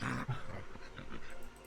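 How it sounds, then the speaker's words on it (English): An agitated dog barks close by, a couple of loud, harsh barks at the start trailing into rougher growling, snarling sounds. "stop it, doggy. Stop barking."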